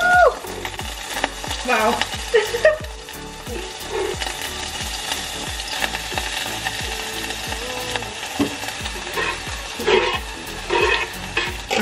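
Grated ginger, garlic and onion hit a hot pan and fry with a busy sizzle while being stirred, with utensil scrapes and bumps throughout, close and fairly loud; a brief exclamation of surprise is heard.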